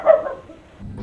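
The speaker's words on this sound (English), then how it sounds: "That sounds like a little dog." Small dog giving one short bark, followed by a faint low murmur of background noise.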